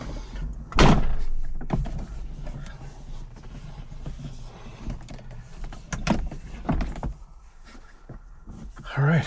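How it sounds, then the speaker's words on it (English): Car doors on a Porsche shut in a workshop: a solid thunk near the start followed by softer clunks and a few more door closes, close and moderately loud amid quiet background. "let's close the doors."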